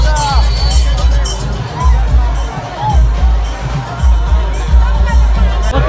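A dense crowd hubbub fills a riverside Mahashivratri bathing festival: loud, close babble of many voices and shouts, sustained throughout, with someone talking over it.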